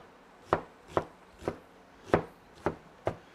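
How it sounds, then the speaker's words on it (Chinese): Onion being chopped on a board with a knife: six separate, sharp chops spaced about half a second apart, close and distinct, with no voices. "切点洋葱壳壳"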